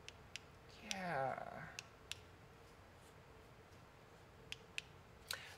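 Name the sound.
3D printed parts scraping, layer lines interlocking, clicking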